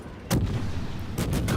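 Booming gunfire in the video game Phoenix, one heavy blast followed after a pause by a tight cluster of shots, loud and close over a low rumbling background.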